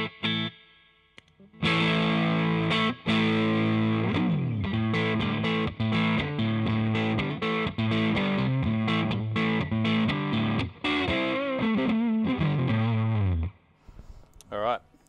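Electric guitar through a Joyo Wild Boost pedal on the neck pickup of an American Standard Stratocaster, played as gritty overdriven chords and riffs with echo-like effects, loud and close, after a brief quiet start.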